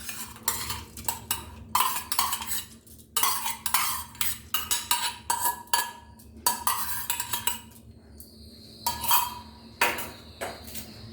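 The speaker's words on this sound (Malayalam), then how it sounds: "അതിനായിട്ട് ഞാനൊരു കുക്കർ എടുത്തിട്ടുണ്ട്. അതിലേക്ക് നമുക്ക് ആദ്യം ചെറുപയർ പരിപ്പിടാം." Dry moong dal tipped into a metal pressure cooker, making bursts of clattering, rattling grains and knocks against the pot. The bursts come in uneven, repeated pulses with short quiet gaps, close up and with no talk.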